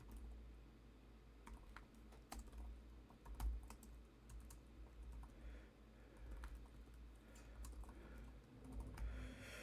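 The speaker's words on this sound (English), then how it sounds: "I'm going to type it in here." Quiet typing on a laptop keyboard while entering a command, a stream of soft, irregular key clicks with a few sharper taps, close and alone.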